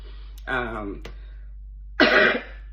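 A person close by gives a short throat-clearing sound, then a sharper, louder cough a moment later, with near silence between.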